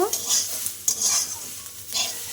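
Water spinach stir-fried in a pan, with three bursts of loud sizzling as the greens are stirred and tossed, separated by quieter frying, alone without speech.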